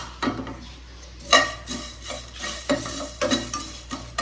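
Mutton masala fries in a pan with a soft sizzle under repeated close scraping and clattering strokes of a spoon stirring, coming in irregular bursts; no talking.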